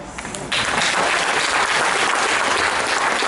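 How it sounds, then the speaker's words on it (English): An audience at a talk in a Hindu temple applauds: sparse claps at first, then a full, loud, sustained burst of clapping close and dense. "You like the idea, that's why you're clapping."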